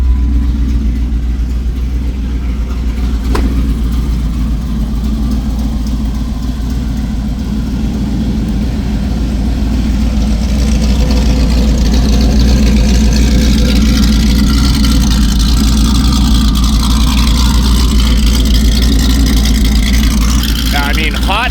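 A Ford Lightning with an X-pipe, Corsa mufflers and no catalytic converters idles with a loud, continuous deep rumble that roughens and grows slightly louder partway through. Someone talks over it.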